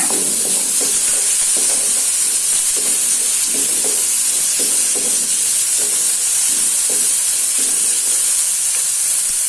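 Vegetables sautéing in a small amount of oil for plain rice porridge give off a steady close hiss, broken by regular scraping bursts of stirring; no one speaks.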